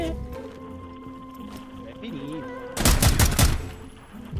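Gunfire in the video game Rainbow Six: a loud burst of rapid automatic shots near the end, following quieter game sounds and voices talking in the background.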